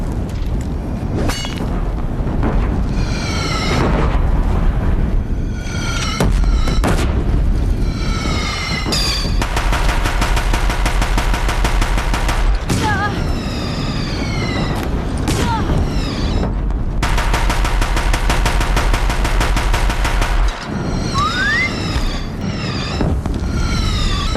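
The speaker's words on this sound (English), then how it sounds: "If the Deathbringers keep firing, this bridge will go!" Deathbringer machine guns in Horizon Zero Dawn fire heavy, sustained mechanical bursts with creaking metal and whining sweeps over a bridge battle, loud and close, with long continuous barrages broken by short gaps.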